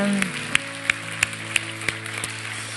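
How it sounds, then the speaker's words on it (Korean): Members of a church congregation at a Sunday service clap in thanks, evenly spaced claps standing out over sustained keyboard tones in the background. "다시 한번 우리 감사의 박수 올려드리겠습니다"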